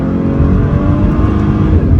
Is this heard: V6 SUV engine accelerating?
yes